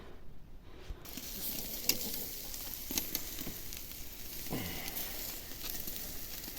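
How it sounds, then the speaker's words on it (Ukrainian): Steady sizzling of pork ribs frying in a hot pan, with occasional light scraping and clinks close by. "Реберці смажимо."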